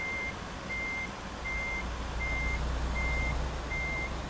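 Truck reversing beeps in American Truck Simulator, a steady series of six evenly spaced electronic tones sounding over a low engine rumble.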